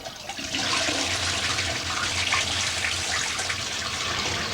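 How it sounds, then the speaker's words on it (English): A household toilet flushing in a home bathroom, a steady rushing gush of water that swells in the first half second and holds loud and close for the rest. "In case you wonder what happens when I flush the loo"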